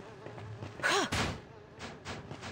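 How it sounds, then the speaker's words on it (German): A fly buzzes in Beyond Good & Evil, a loud close swooping whine that sweeps past in about a second, followed by fainter buzzing bursts against a quiet room background. "Und noch eine Fliege."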